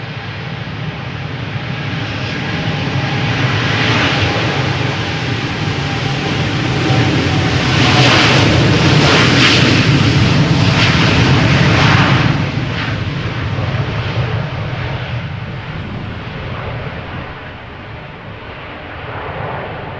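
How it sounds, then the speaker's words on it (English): A KLM Boeing 787-10 Dreamliner departing Schiphol for Nairobi thunders past with a broad, heavy jet-engine roar that builds to a loud peak midway, crackling and rumbling, then slowly fades as it climbs away. "So this is KLM flight 565, 787-10 Dreamliner, destination Nairobi."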